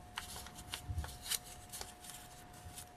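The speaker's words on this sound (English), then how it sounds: "at this point you are going to fold this in half" Shiny-sided paper folded in half for a paper bead Christmas tree craft gives soft rustling and crinkling close by, with a few brief crisp crackles amid light handling noise and a steady faint background tone.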